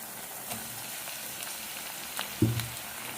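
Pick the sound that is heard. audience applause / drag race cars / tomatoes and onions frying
tomatoes and onions frying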